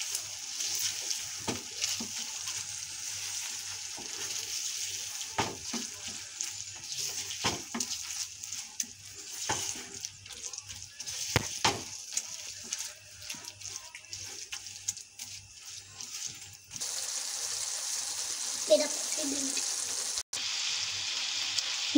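Dal lentils cooking in a pot, a soft continuous sizzle and bubbling hiss with occasional stirring clinks and scrapes, steady and fairly quiet throughout, no talk.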